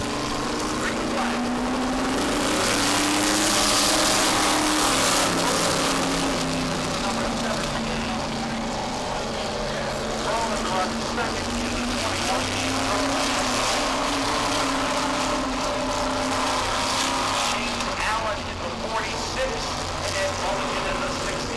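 Race cars at a New England short-track event roaring on the green flag, a dense droning engine mass that swells and holds loud for over twenty seconds, with a commentator talking over it.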